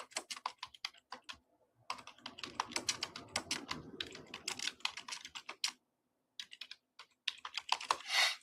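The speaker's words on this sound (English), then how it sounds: "So I'll just type that in." Fast typing on a computer keyboard, with dense bursts of clicking keystrokes, a few short pauses between runs, and a louder flurry near the end, close and clear with no talking.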